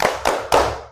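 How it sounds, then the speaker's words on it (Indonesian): A class in an Indonesian classroom claps together in a tepuk fokus clapping game, three sharp, loud group claps in quick succession with no voices. "Ice breakingnya tepuk fokus."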